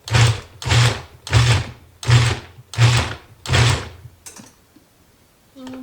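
A food processor pulses salsa ingredients of tomatoes and onions in six short, loud, evenly spaced bursts, each a whirring chop about half a second long, then goes quiet.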